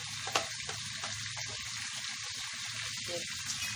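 Chickpeas frying in oil with a spoonful of yogurt added, giving a soft steady sizzle with faint crackles, quiet and close, without talk.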